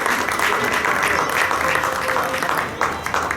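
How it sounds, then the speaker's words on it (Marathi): Loud, dense applause fills the hall at a carrom tournament in Ratnagiri, honoring Ketan, the league's chief referee, with steady clapping throughout and faint crowd voices mixed in. "जोरात टाळ्या केतनसाठी होते."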